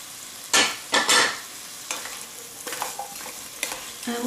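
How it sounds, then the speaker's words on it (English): Potatoes and Italian seasoning sautéing in a pot for a roasted corn and smoked salmon chowder, heard as a few loud scraping stir bursts followed by softer, intermittent stirring and light sizzle, with no talk. "we're just going to actually saute these just for a little bit"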